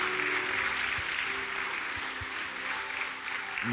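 A church congregation applauds during a sermon on the Lord's Supper, with moderate, steady clapping and faint tones and low thumps running beneath it.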